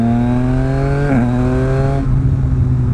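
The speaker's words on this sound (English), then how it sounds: "the acceleration on this bike is too much fun" A Yamaha MT09 motorcycle accelerates, its loud, close engine holding a steady rising drone that dips briefly, as if through a gear change, before carrying on.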